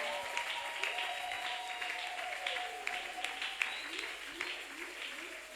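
Audience applause with cheering fills a church, steady and dense from start to finish, with a few louder individual claps and shouts standing out.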